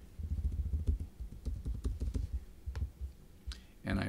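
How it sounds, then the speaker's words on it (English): A password typed on a computer keyboard: a run of close, distinct keystrokes in an uneven rhythm, ending with a harder final key press. "So if I type in the password for secret"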